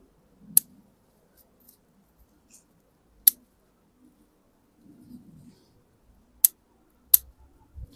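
Sharp, isolated snips of scissors trimming an overgrown Seiju elm bonsai, four crisp close cuts spaced apart amid quiet with faint rustling of branches.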